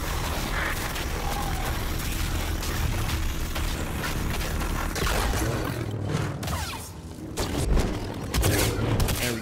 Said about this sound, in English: Flashbang time.